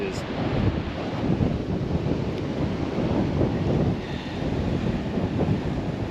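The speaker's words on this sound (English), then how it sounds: "So you got like super wind with sand" Strong gusty wind batters the microphone on a sandy Alaskan coast, with big brown waves surging beneath it in a loud, continuous roar.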